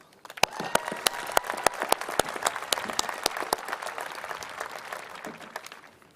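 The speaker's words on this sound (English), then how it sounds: "And definitely a big round of applause for our faculty and staff." Graduation ceremony audience claps for faculty and staff, a few sharp individual claps standing out over a wash of crowd applause that swells then tapers off.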